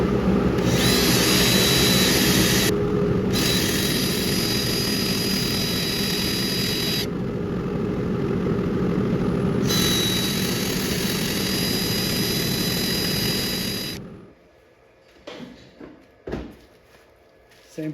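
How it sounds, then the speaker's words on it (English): A wood lathe spins a turned bowl at speed in a home workshop, a loud steady motor roar with whirring hum that winds down near the end, followed by brief knocks and handling sounds. "I'm going to apply it while the bowl is spinning this time with a little bit of speed."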